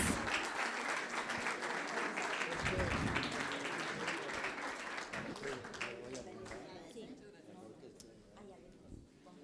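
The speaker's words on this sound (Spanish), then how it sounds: "Un aplauso muy grande para estas dos bellas mujeres." A seated audience at a local history talk applauds two women, dense clapping at first that slowly thins and fades over nine seconds, with voices talking over it.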